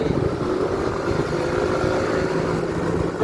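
A motorcycle on a night road test ride makes a steady engine drone mixed with wind and road rumble, close and loud throughout.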